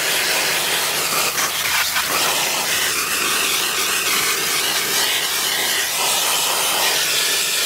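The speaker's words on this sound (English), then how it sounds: "You want to spray that up a bit?" Steady, loud hiss of spraying water runs continuously from start to end, broadband and unbroken with slight fluctuations.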